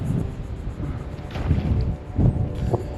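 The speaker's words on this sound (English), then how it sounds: "It's getting crazy windy out here." Strong wind, rising to about 15 miles an hour, buffets the microphone outdoors in a steady low roar, with louder gusts swelling and rumbling partway through.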